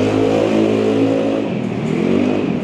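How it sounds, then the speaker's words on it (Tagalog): A motorcycle engine drones loudly and steadily nearby, its pitch easing slightly partway through, with no talk over it. "Ang ingay ng motor."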